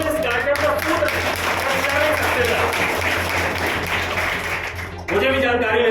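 Audience applause at an Old Age Day community programme, a sustained wash of clapping that fades before speech resumes near the end.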